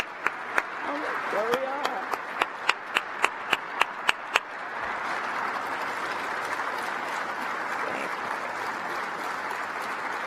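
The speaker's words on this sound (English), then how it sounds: "I'd like you to stand, please. so we can applaud you." An audience at the third U.S. National Space Council meeting applauds standing Space Force Guardians, with a few sharp claps at first, then a steady, broad wash of clapping that carries on to the end, and a brief spoken remark at the start.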